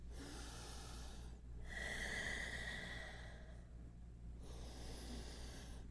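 Slow, steady breathing during a yoga hip-opening session: long, airy inhales and exhales flowing continuously, close and fairly loud, with a brief pause between breaths and no talking.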